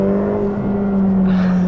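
A C8 Corvette Z06 or Ferrari F8 Tributo sports car engine drones steadily through a cornering run, a strong constant hum with a rising whir of turbo noise building toward the end, with no talk.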